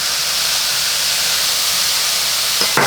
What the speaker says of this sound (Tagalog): Nung nilagay ko yung toyo, nag-evaporate kagad yung liquid